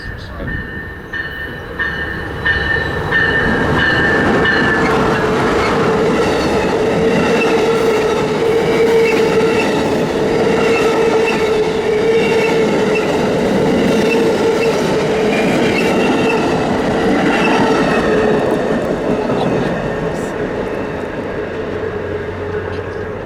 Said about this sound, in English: Our next train was I031 southbound, the hotshot intermodal and Tropicana orange juice combo